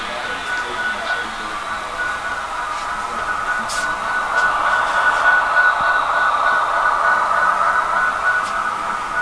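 A model train runs along a model railroad layout, a steady mid-loud hum with a bright whine that swells slightly midway, while people talk faintly in the background.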